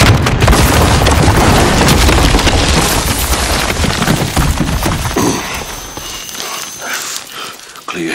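Incoming missiles exploding in Modern Warfare's Going Dark mission: loud, sustained rumbling booms across the whole stretch, thinning toward the end, with game voices heard alongside.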